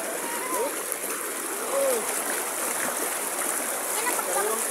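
Stream water rushes and splashes steadily outdoors, a broad continuous wash that holds level throughout, with bird calls or voices faintly over it.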